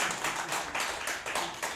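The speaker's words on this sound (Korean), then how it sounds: "박수 좀 주세요." An audience at a history lecture clapping briefly, a short burst of rhythmic, fairly soft hand claps with no talk over it.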